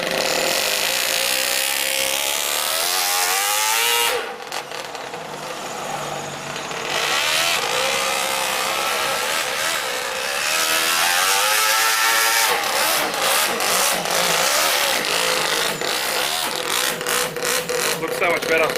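A small two-cylinder four-stroke engine in an RC car with a custom exhaust revs loudly and raggedly, dipping briefly before climbing back to sustained high revs, close and harsh throughout.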